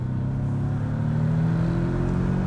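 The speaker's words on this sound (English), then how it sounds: "let's get around these turns here and see if we can put our foot into this thing" A 2017 Porsche 718 Boxster (982) engine drones loudly from inside the car as it accelerates, its tone climbing steadily under the full-throttle pull.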